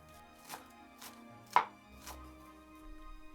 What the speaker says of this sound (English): Also, slice 2 spring onions.